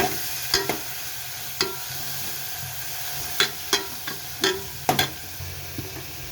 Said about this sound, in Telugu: ఉల్లిపాయ ముక్కలు పచ్చిమిర్చి వేసుకోవాలి వేసుకుని బాగా కలపాలి